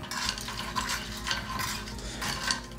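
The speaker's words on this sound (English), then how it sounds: "I'm just gonna stir this around a little bit just to mix even more things up" A ball of dirt is stirred around in water, giving a soft swishing and sloshing with faint gritty scraping in repeated strokes, close and fairly quiet, with no talking.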